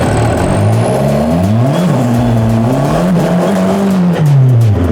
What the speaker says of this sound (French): je crois que ma voiture est arrivée